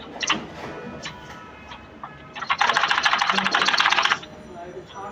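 A sewing machine stitches a child's frock in a short loud burst of rapid ticking, framed by scattered quieter clicks and handling noises before and after.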